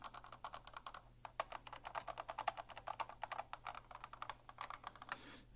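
Typing clatters on a Unicomp Ultra Classic buckling spring keyboard, a rapid, dense run of crisp, loud clicks, close up, with a brief pause near the start and a steady low hum underneath.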